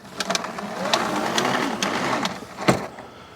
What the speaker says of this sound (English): Grab it by the ball that's on the hose here and pull it out.